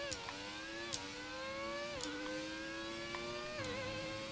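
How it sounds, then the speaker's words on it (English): A V12 Formula 1 car engine in the racing game F1 2017 screams at high pitch, rising through several gears with brief dips at each shift, steady and continuous with no talk. "Something to be said for the sound of this engine, though. I think this is a V12."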